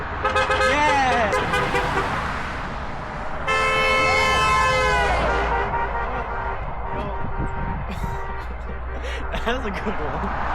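Car horns honk from passing vehicles on a road, with a sustained horn blast in the middle among traffic noise while people cheer and talk over it.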